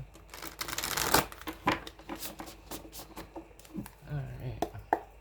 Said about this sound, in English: It felt right to keep shuffling, so that's why I'm still shuffling.